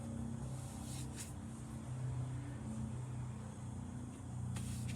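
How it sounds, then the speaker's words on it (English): A blue 2003–2005 Chevy Silverado regular cab short box pickup passes by, a faint, steady low engine rumble that swells slightly toward the end over an outdoor background. "I don't know if you can hear this truck coming or not."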